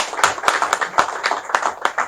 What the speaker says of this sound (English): I think you should join me in clapping for him for that